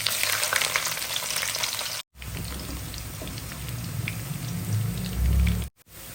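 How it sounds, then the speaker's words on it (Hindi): Sliced onions dropped into hot oil for a chicken karahi sizzle and crackle steadily, close and fairly quiet, with two brief dropouts and a louder low burst near the end. "अभी हमारा तेल गरम हो चुका है। अभी हम इसमें प्याज ऐड करता है"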